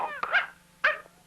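A dog gives two short, close barks with a whimpering yelp quality, about half a second apart, alone in a quiet room.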